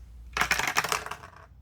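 A handful of dice rattle across a tabletop, a quick burst of hard clicking and clattering bounces that starts abruptly and tapers off within about a second.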